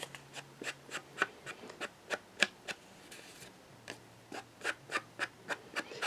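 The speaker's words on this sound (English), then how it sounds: "ink the edges like so." Card panel edges being swiped with an Anna Griffin ink pad, giving a run of quick, regular rubbing strokes, close and soft, about two or three per second, with a faint background hum.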